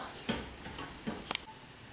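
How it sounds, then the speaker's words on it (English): A soft, steady sizzle of risotto rice grains frying in oil, with a couple of faint stirring scrapes and taps. "You know you're really good to go when you start hearing it sizzle"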